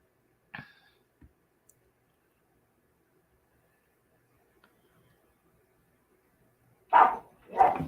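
A dog gives a sharp single bark early on, then after a long near-silence two louder, closer barks burst out in quick succession.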